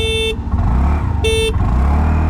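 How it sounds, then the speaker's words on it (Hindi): Honda Dio 125 scooter horn honking, two sharp short toots heard over a low engine hum, nearby and loud. "will start the acceleration test with 3 horns"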